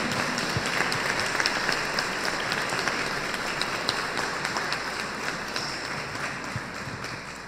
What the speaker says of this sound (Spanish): un fuerte aplauso para el párroco Domingo Jesús Martínez Ramírez.